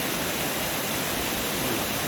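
Montreal Falls, a waterfall reached by a hiking trail in Michigan's Upper Peninsula, roars as a dense, steady rushing hiss, loud and unbroken, with no voices.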